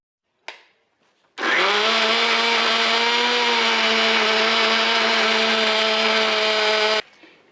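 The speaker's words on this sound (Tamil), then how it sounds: "இந்த மிக்சியை நான் ஓட்டிக்கிட்டு இருக்கேன் இப்போ இது வந்து ஊரே எழுப்பிட்டு இருந்த சவுண்டு பாருங்களேன்" A mixer grinder (mixie) kicks on after a brief click and runs loudly and steadily for about six seconds with a strong whining motor hum, then cuts off abruptly.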